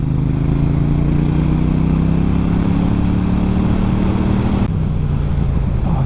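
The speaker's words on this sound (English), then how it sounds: "Back brake hard on, just the back brake." KTM 790 Duke motorcycle braking hard on the back brake alone, fitted with wavy brake discs: a loud, steady engine drone with falling tones as it slows, cut off by a sudden drop near the end, no talk.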